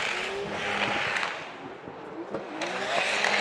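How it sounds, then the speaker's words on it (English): A Formula Drift car with an S chassis in Sunoco livery makes a solo bye run at the Shoreline Showdown event. It sounds like a continuous loud engine roar with some rising revs, heard steadily throughout. "here's the bye run from Ryan Littoral and the Sunoco S chassis"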